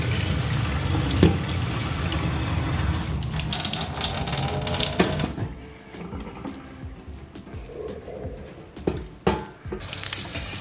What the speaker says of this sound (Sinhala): වතුර හොඳටම අයින් වෙනකන් අපි මේ ගොට්ටේ මෙහෙම තියාගමු.